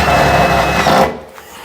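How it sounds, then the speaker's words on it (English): A power drill pre-drills screw holes for mounting a kitchen cabinet, whirring loudly and steadily up close for about a second before spinning down and stopping. "I'm going to pre-drill these screws up here for the next cabinet"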